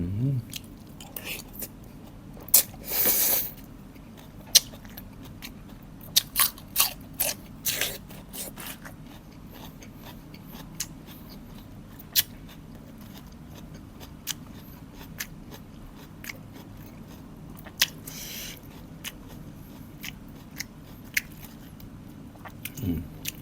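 Close, wet chewing and crisp crunching of pork rinds eaten with spicy som tam, irregular bites and mouth sounds spread across the stretch, with occasional faint voice.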